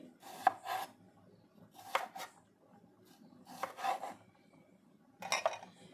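A knife cuts thin slices of green tomato on a board, giving soft, close, crisp cuts in four quick pairs spaced evenly apart, with quiet between them.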